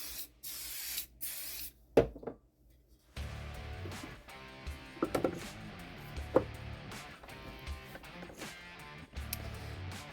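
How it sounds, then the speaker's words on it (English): Super glue accelerator sprayed from an aerosol can onto a glued joint in an epoxy coaster project, heard as short, close bursts of spray hiss separated by brief pauses, with workshop handling noises and clatter around them. "we're going to spray the accelerator right here"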